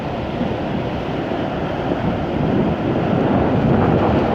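Broad steady roar of falling water and surf where the Wangpi River's lower reach meets the sea near Mangyang Beach in Uljin, rising slightly in loudness, with wind buffeting the microphone and no voices.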